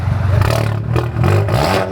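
Loud, rumbling exhaust from a straight-piped MK7 VW GTI engine, a deep throaty drone that swells and dips with small revs, heard close up with no talk.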